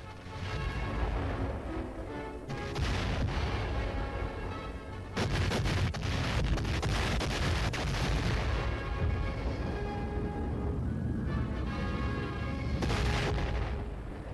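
Heavy naval and air bombardment of Okinawa in World War II: loud, continuous roaring barrages with repeated booming blasts and rumbling artillery fire, dense and overwhelming throughout.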